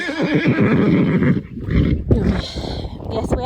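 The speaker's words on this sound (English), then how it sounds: "He's neighing as if to say there's nobody around." A horse neighs loudly and close, a long shaky whinny followed by snorting and a second higher call.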